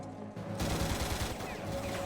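Rapid gunfire in a Stargate SG-1 episode firefight, a steady fast rattle of shots running throughout at moderate loudness within a dense battle soundscape.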